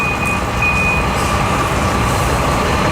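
A truck's reversing beeper sounds as a thin, steady high tone over loud, continuous road and engine rumble, running through the whole stretch with the vehicle close by.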